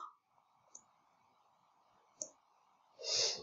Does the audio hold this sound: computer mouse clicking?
yes